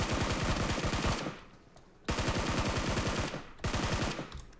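Automatic gunfire in the mobile battle royale game PUBG Mobile, loud sustained bursts of rapid shots broken by brief pauses, three bursts in quick succession with no talk.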